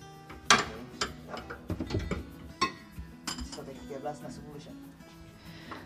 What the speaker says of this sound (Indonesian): soket ini kita masukkan di bagian lubang